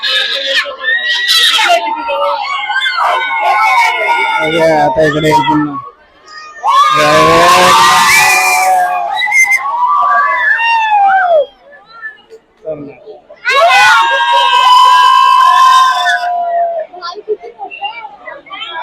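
A crowd at a city zoo screams and shrieks as a tiger arrives in its glass enclosure, loud bursts of high yelling in waves with brief quieter gaps, children's voices and close talk among them.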